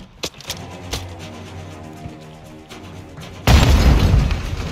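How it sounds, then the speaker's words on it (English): A grenade goes off in the Modern Warfare 2 video game, a loud sudden boom with a roaring blast tail, following a few faint thuds and background gunfire. "Grenade!"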